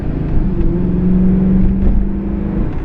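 A Ford Crown Victoria Police Interceptor V8 engine revving, a loud, close, steady low rumble with a sustained droning tone and no talk over it.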